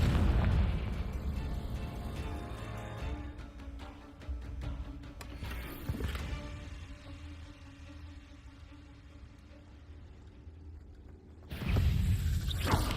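Confringo fire explosion spell cast in the Hogwarts Legacy video game: loud booming blasts open and close the sequence, with a rumbling, crackling wash of combat effects between them and no talk.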